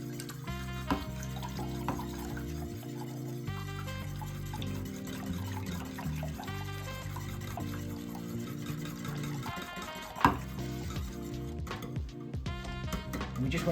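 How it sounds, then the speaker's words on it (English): Eggs are whisked into a liquid sauce for bread pudding, giving a fast run of light, wet clicks and sloshing that goes on throughout, with someone talking over it. "we're just going to whisk these right into our sauce."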